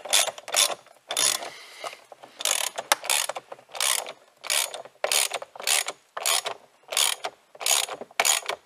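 Ratchet wrench tightening a steering column part on a Ford Ranger pickup, with about a dozen rapid bursts of close, loud clicking in a steady rhythm and brief pauses between strokes.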